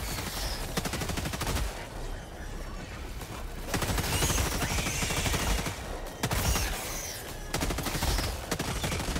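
Heavy gunfire in Helldivers 2 during a solo Impossible-difficulty mission on Hellmire: dense, rapid bursts of automatic fire, loud and close, surging in waves with short lulls between volleys.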